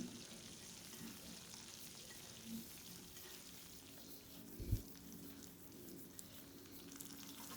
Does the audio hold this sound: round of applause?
no